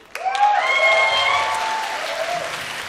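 Audience applause at the Korean Music Awards ceremony, a sudden swell of clapping from a crowd that stays steady for a few seconds with tonal sounds running beneath it.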